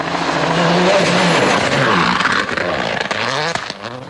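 A Citroën Xsara rally car driven by Sainz on a Cyprus Rally stage, its engine revving hard and close with shifting pitch sweeps, tire noise and a brief dip before surging again, no voices.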